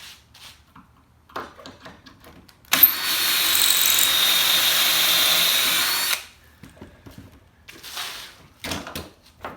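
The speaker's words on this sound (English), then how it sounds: "Come back and drill your hole." Power drill boring pocket holes into wooden boards for a raised vegetable garden bed, one loud steady whine lasting about three seconds, with quieter clamp and handling knocks before and after.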